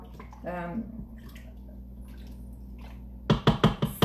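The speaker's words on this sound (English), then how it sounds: "I'm gonna give that a quick stir for my seasonings" A spoon stirs seasonings into chicken tortilla soup in a quick cooker, producing a short run of sharp clinks and scrapes near the end, after a stretch of talking.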